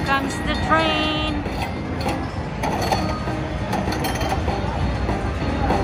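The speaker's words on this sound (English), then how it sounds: "Here comes the train." A train sound effect plays from a Buffalo Cash slot machine in a casino, a rolling clatter with a whistle-like tone, mixed with machine chimes, clinks and nearby voices.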